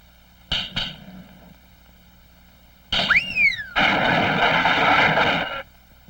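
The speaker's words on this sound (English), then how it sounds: "I'd better use a bigger hammer." In a 1968 cartoon, two quick metallic strikes of a hammer on a diamond ring out, then a heavy clang with a wobbling, springy tone rises into a long loud crashing rumble as a table breaks.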